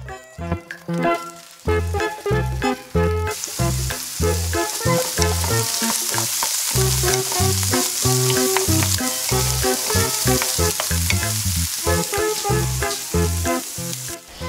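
Pechay sautéing in a hot pan gives a steady, bright sizzle that grows louder partway through, mixed under a rhythmic musical backing for the whole stretch.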